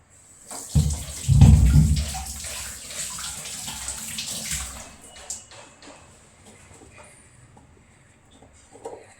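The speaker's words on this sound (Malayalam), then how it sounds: "കൈ കഴുകട്ടെ" Water runs and splashes as hands are rinsed under a tap, loudest early on, then easing to a softer trickle with light clatter.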